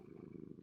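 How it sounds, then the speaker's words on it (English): A cat purrs softly and steadily, a low rhythmic rumble close by, ending with a brief louder burst. "Cat starts to purr."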